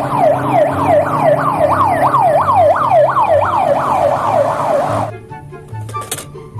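A white toy ambulance wails with a fast, repeating electronic siren, loud and steady for about five seconds before it cuts off, leaving faint clicks and handling noise.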